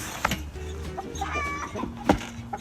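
A hen clucks nearby while laying an egg, in short, uneven bursts, with a couple of louder squawks rising over the low clucking.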